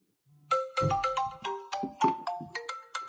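A bright electronic ringtone from a phone, set off by a smartwatch's find-phone feature, plays a quick repeating melody of short tones, clear and fairly close, with no talking.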